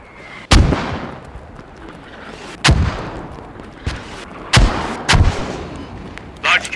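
Artillery rounds firing in the video game Squad, several booming blasts in an irregular sequence, loud and sharp with rumbling tails, alone over low background noise.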